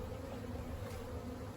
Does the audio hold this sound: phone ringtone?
no